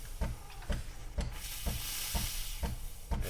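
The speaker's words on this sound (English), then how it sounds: "Delonghi changed the way that the steam delivery comes out slightly" A Delonghi Prestigio espresso machine lets out a weak, breathy steam hiss, with dull pumping thumps recurring roughly twice a second underneath.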